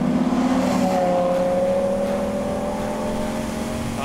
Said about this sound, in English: Love the sound of that V10.